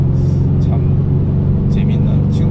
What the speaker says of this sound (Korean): 스포츠의 모드에 놓으면 아주 엔진 음도 이렇게 강렬해지고